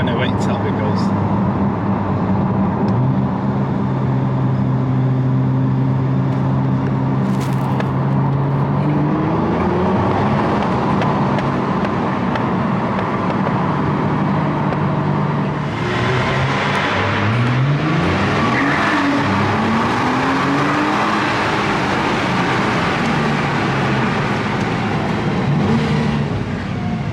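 A Nissan R35 GTR engine pulls hard, its rising then shifting pitch sweeps repeating as the car accelerates on a Japanese road, with a steady loud drone throughout and people talking over it.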